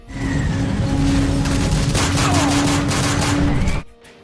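Sustained automatic gunfire in a Call of Duty battle scene aboard an aircraft cabin, loud and dense for nearly four seconds with booming undertones, then cutting off abruptly.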